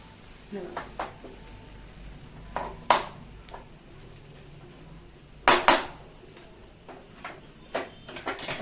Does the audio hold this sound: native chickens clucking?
no